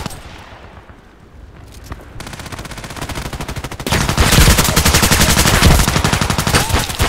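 Rapid automatic gunfire from an AUG A3 assault rifle in the video game Contract Wars, starting sparse and quieter, then turning into loud sustained bursts of rapid shots.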